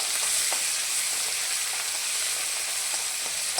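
Chopped tomato and a little coriander sauté in a pan over low gas, giving a steady, close hiss of frying with faint stirring ticks and no voices.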